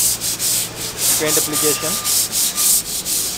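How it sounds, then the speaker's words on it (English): A red fire fighting pipe being rubbed down with sandpaper before painting, a loud, rhythmic back-and-forth scraping in even strokes about three per second, with brief speech in the middle. "We are using sandpaper to clean the pipe first with any dirt or anything."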